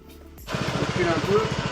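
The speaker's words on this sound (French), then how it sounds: "Je redémarre le scout et on va refaire l'essai." A scooter engine fires up beside a folding Werkopro loading ramp, the start followed by a rapid, even low putter of firing pulses, close and steady.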